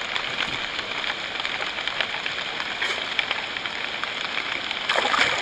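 Rain falling during a fishing trip in the Amazon, a steady dense hiss of drops on water and surfaces that holds evenly throughout and swells slightly at the end.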